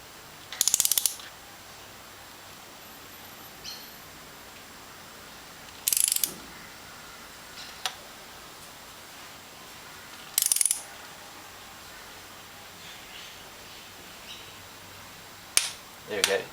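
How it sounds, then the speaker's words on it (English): Torque wrench clicking as it tightens a spark plug to 18 Nm on a 2001 Honda Civic: a few sharp, brief clicks spaced several seconds apart over a quiet background. "So we'll just keep going. Till we hear the click."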